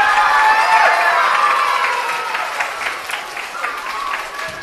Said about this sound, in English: Should we give him a big cheer to get him in the mood?